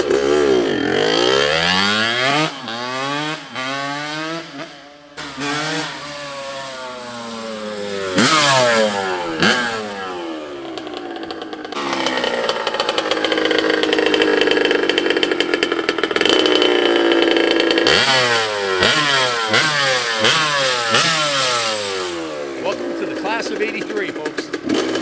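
A 1983 Honda CR80R two-stroke motocross bike in Tahitian red, its small engine screaming through repeated sharp revs that rise and fall in quick waves, with a steadier high-pitched hold in the middle, loud and close.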